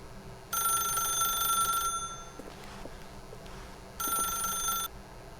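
An old-style telephone rings in The Stanley Parable video game, two bursts of bright electronic trilling separated by a quiet pause, clear and close over faint room tone.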